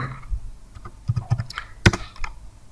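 Close, irregular clatter of a computer keyboard as Python code is typed, a quick run of sharp key presses with one louder thump near the end.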